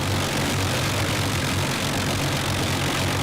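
The engines of an Avro Lancaster bomber warm up at 1,200 rpm, a loud, steady, close roar that fills the whole clip without pause.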